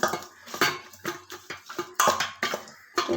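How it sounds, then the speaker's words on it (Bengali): Cracked egg is mixed by hand into an okra curry mixture in a bowl, giving a close, rhythmic series of scraping clinks and knocks against the bowl, repeating about every half second. "এবার এই ডিমটা ফাটিয়ে দিয়ে দেবো এর মধ্যে। এবার এটাকে মেখে নেবো।"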